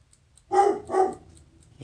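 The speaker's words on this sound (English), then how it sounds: "I hear the dog in there." A dog barks twice in quick succession, fairly close and sharp, then a quieter start of another sound at the end.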